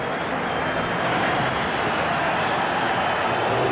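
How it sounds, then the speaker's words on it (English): A cricket crowd at Durban applauds Gary Kirsten's innings of 97 for South Africa against Australia in a one-day international, a dense, steady wash of clapping and cheering that holds at even loudness throughout. "the crowd rise to a fantastic innings"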